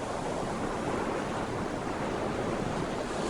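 Sea waves and wind make a steady, dense roar of surf and gusting air that holds even throughout, with no voices or other distinct events.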